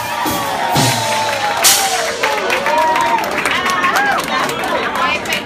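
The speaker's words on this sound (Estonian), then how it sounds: "Aplaus!" A party crowd at Cafe Amigo's 20th birthday applauds and cheers for the house band, with a sudden loud burst of clapping and whoops followed by a steady, close crowd roar and scattered shouts.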